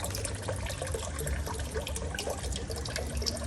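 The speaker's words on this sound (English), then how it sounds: "this fountain has been going for 12 hours" A garden fairy-and-urn water fountain run by a solar pond pump splashes steadily, a close, continuous trickle and patter of falling water with no talk.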